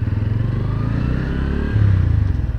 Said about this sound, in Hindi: चलिए ये हो गए हमारी बाइक स्टार्ट।